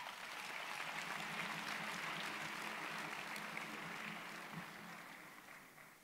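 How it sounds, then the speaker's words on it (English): A graduation ceremony audience for the Faculty of Engineering, Built Environment and Informatics applauds graduates' parents with steady, dense clapping that fills the hall, then tapers off near the end. "May I request you give them a big applause"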